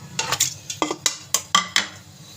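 Washed pieces of mutton being dropped into a metal pressure cooker pot in a home kitchen, a series of about eight sharp clanks and thuds, close and fairly loud, with no talk.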